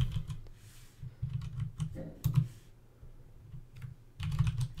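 Fingers type on a computer keyboard in quick bursts of clicking keystrokes separated by short pauses, close and fairly quiet.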